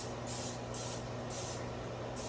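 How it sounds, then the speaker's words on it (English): Short hissing bursts of cooking spray being sprayed into pans come in a quick series of four, faint and close, over a low steady background hum. "I'm just going to use a little bit of cooking spray"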